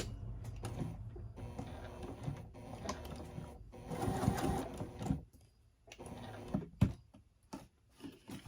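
A sewing machine top stitches a crossbody bag, its motor running in uneven bursts with short pauses between runs of stitching, close and fairly quiet.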